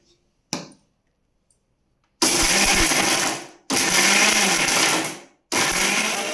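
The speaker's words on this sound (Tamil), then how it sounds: "ஒரு 3 கொத்து கருவேப்பிலை. இதை அரைச்சிக்கலாம்." A kitchen mixer grinder whirs loudly while grinding three sprigs of curry leaves, running in three pulses of a second or more each, separated by short pauses.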